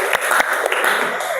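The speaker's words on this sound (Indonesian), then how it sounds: "tepuk tangan semuanya." A classroom group of students bursts into applause during a group guidance session, a dense steady patter of many hands clapping close by for a brief moment with no talking over it.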